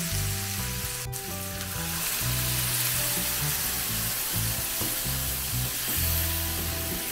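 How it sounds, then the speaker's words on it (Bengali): Prawn masala for a Bengali prawn roast sizzling steadily and loudly in a pan as water goes in, a continuous close hiss with bursts of bubbling and a sharp crackle near the start. "নেড়ে চেড়ে এবার দিয়ে দেবো এর মধ্যে একটু জল।"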